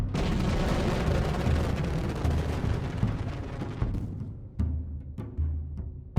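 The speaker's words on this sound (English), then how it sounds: "receives a signal to fire its twin R-103 solid rocket motors" Twin R-103 solid rocket motors fire in Kerbal Space Program, a dense continuous roaring rumble that holds steady and then breaks into choppy bursts and fades toward the end.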